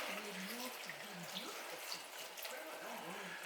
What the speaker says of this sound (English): And then we're gonna cover these ears of corn with water.